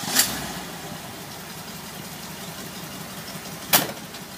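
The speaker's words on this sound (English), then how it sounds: "You can kind of hear what the exhaust sounds like." A 1970 Ford Bronco with dual exhaust idles steadily at a low rumble, with two sharp clicks or knocks near the start and end over the even engine drone.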